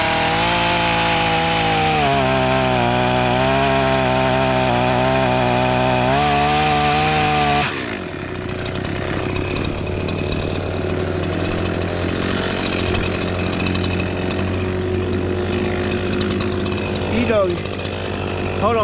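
A loud chainsaw roars steadily while felling a sweetgum tree, close and continuous, its pitch dropping as the bar bites into the wood partway through, with speech barely audible under the engine.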